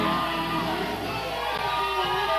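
Wrestling arena crowd reacting to the Texas Outlaws tag team: a dense, steady roar of voices with scattered shouts and whoops, loud and continuous throughout.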